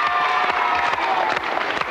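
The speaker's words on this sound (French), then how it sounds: "On peut les applaudir encore très fort." TV studio audience on a children's variety show applauds briefly, a dense steady clatter of many hands with faint cheering, fairly loud and unbroken.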